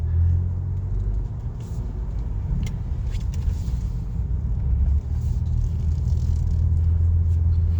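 A 2019 Toyota Camry XSE with a 4-cylinder engine drives around the block, a steady low road rumble and engine hum heard from inside the cabin, with a few faint clicks and no talking.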